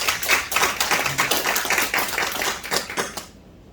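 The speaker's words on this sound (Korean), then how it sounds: "다시 한번 뜨거운 박수 부탁드립니다" Audience applause at a regional media crisis forum held by the Yeosu City Council, a brisk, fairly close patter of hand claps that fades out after about three seconds.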